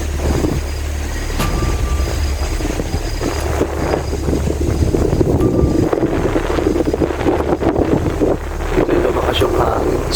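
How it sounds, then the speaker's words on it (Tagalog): A strong wind roars outdoors at an abandoned mansion, buffeting the microphone in a constant heavy rush that swells slightly midway, with faint scattered knocks underneath. "Malakas yung hangin dito sa labas."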